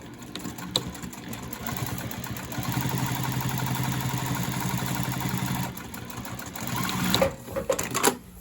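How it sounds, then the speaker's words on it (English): A sewing machine runs steadily while top stitching a seam on a bag's back pocket, with a brief stop and a few short bursts of stitching near the end. "I'm just going to top stitch this"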